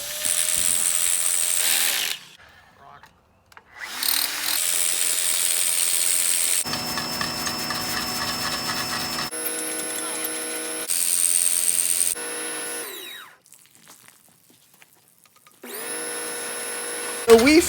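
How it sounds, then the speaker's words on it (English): An old DeWalt SDS Max drill and a power washer work on old high tunnel greenhouse poles, giving loud bursts of ratcheting, whirring machine noise that start and stop with short pauses between runs. "So I got the old DeWalt SDS Max drill out and the power washer"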